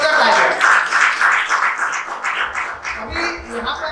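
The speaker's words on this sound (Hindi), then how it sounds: "जोरदार तालियां" Loud, dense applause from a seminar audience fills the room steadily, with voices chattering over the clapping toward the end.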